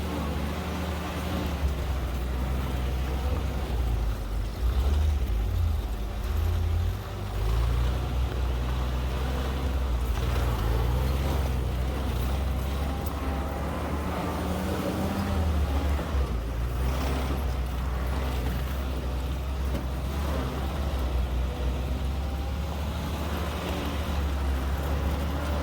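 A flat fender Jeep grinds steadily over a rocky mountain trail of dark, concrete-like rock on Imogene Pass, its engine a continuous low rumble, with rattles and bumps and no pauses.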